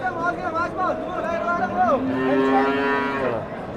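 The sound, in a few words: cows mooing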